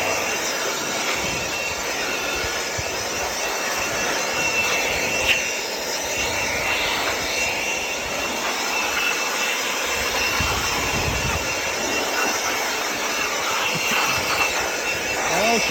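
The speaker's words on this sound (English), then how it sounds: "Cute little blower. It blows pretty good." A small leaf blower runs steadily outdoors, giving a continuous, airy, broadband roar at an even level from start to finish with no talking.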